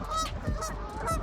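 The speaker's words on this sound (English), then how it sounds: "all these geese over here" Geese gather nearby and honk in short, nasal calls, several overlapping blasts coming in quick succession and fairly close and loud, with no speech.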